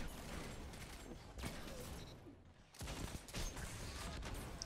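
Gunfire from a crimson hand cannon in a Destiny 2 Crucible match: a few loud sharp shots with echoing tails and a brief lull between bursts, over faint game ambience.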